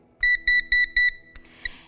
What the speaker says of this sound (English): it'll make a consistent beeping noise